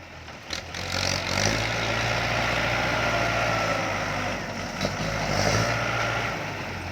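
A Komatsu PC130-8 excavator engine runs steadily at close range, a loud continuous low rumble holding throughout with slight swells, no talking over it.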